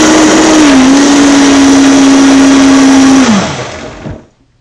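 A Vitamix blender purees fruit with a loud, steady motor whine that holds its pitch, then drops and winds down to silence near the end.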